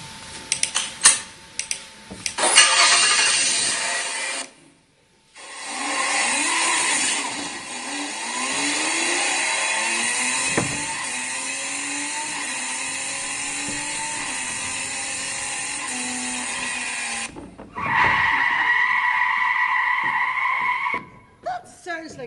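A hired car starts and pulls away, its engine rising and settling into a steady drone as it drives off. Brief mechanical clicks come first, and the engine noise cuts out and returns near the end.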